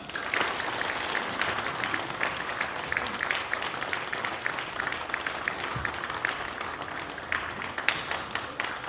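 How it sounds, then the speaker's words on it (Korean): Sustained audience applause at a cake cutting during a New Year prayer breakfast in a church, an even wash of many hands clapping close by without speech. "경기도에게 축복을 박수하겠습니다."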